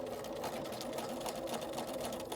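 A sewing machine back stitches along an invisible zipper, giving a steady, close, continuous mechanical whir with fast needle chatter and no pauses.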